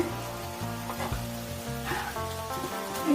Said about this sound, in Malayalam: ഇനി നമ്മൾ പൊരിച്ചു വെച്ച ചിക്കൻ ചേർത്തെടുക്കണേ